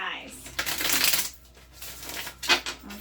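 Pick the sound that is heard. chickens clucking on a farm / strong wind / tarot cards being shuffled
tarot cards being shuffled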